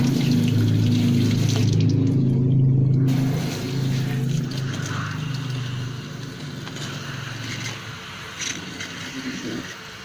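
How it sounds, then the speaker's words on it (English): Water is poured onto a bromeliad, running and splashing steadily up close, loudest at the start and then tapering to a softer trickle. "So now I'm going to put water."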